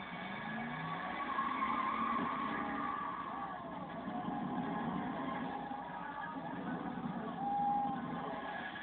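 A Camaro engine roaring under hard throttle, a sustained muffled rumble with tire-skid texture that swells and eases, heard alone at moderate loudness with a dull, narrow sound.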